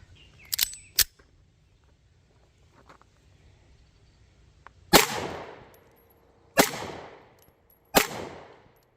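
Girsan MC P35 Hi-Power clone pistol firing Gold Dot rounds at steel targets 15 yards away outdoors: three sharp, loud reports a second or two apart, each with a ringing decay, after a couple of fainter earlier cracks.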